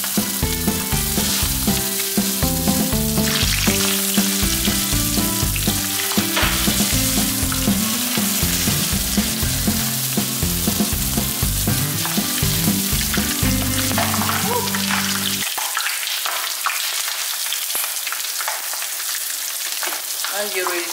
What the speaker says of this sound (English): It's hot now, our cooking oil, and it's ready to fry our wonton.